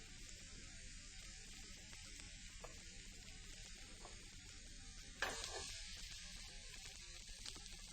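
Thai basil leaves and peanuts sizzling and stir-frying in a hot pan, a steady close hiss of frying with a louder burst of sizzle partway through as more ingredients hit the oil.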